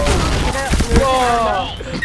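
Explosion from a thrown bomb in a ninja mission video game, a burst of booming thuds layered with game effects, close and loud beneath excited voices.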